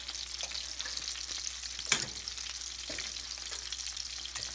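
All-beef meatballs frying in a pan, a steady close sizzle and crackle with one brief clatter midway, no voices.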